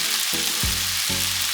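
Sesame oil sizzling in a hot stir-fry pan for a steak and vegetable stir-fry, a steady close hiss with brief bursts of crackle as the oil hits the metal.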